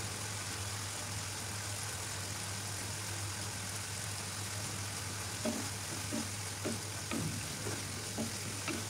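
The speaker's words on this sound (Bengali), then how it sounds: "মশলাটাকে খুব ভালো করে কষিয়ে নিচ্ছি" Masala sautéed in oil for chicken bhuna, a constant faint frying hiss over a low steady hum, with a few soft spatula scrapes and taps toward the end.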